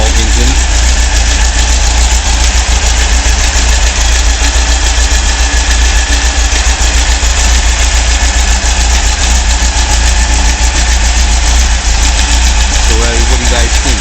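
A rebuilt 2017cc Volkswagen engine runs at a steady idle, a loud, close, continuous low rumble with a constant mechanical buzz and no change in pace. A voice may be faintly present under it.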